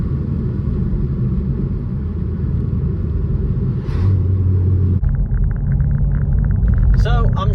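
Deep exhaust rumble from the back of a car, loud and steady throughout, with a voice speaking over it and a brief change in engine tone midway.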